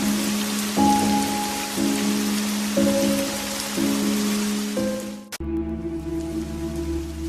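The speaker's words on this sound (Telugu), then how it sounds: "అరే రే, ఏంటి ఈసారి వర్షాలు బాగా పడుతున్నాయి" Heavy rain pours down in a steady, loud hiss, with a low rumble and a sharp crack near the end, and no voices.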